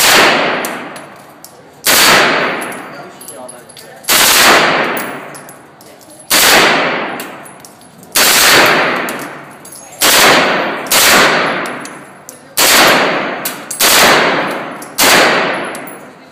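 Loud, close gunshots fire one at a time at an indoor gun store range, roughly every two seconds, each sharp crack followed by a long echoing ring in the enclosed room.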